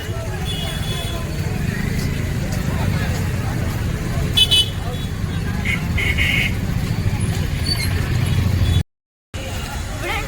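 A busy shopping street on Commercial Street, Shivajinagar, Bangalore, carries a constant traffic rumble with several short car horn toots midway. A person talks over the noise.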